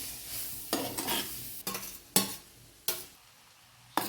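Spoon scraping and stirring drumstick thoran, with scooped drumstick pulp, in a pan, in a handful of distinct strokes spaced about a second apart over a faint sizzle, close and fairly quiet.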